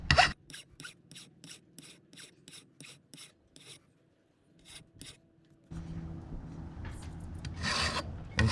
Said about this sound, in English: File that. Next is you want to take all this rough edge off of there.